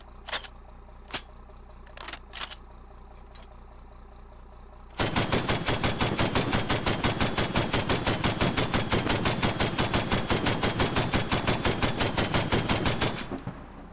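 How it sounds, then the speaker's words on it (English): An Mk19 open-top grenade machine gun in the game Squad fires 40mm high-explosive dual-purpose rounds in a long, steady rhythmic burst of loud thumping shots, preceded by a few scattered sharp mechanical clicks. "This open top grenade machine gun can fire 48 40mm high explosive dual purpose rounds"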